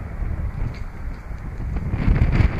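Strong wind buffeting the microphone beside a 2016 Forest River Cherokee 294BH travel trailer, a continuous low rumbling roar that swells louder toward the end.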